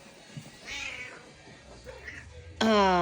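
A cat in a barn gives a couple of faint, short meows, followed by a louder, clear drawn-out meow close by at the end.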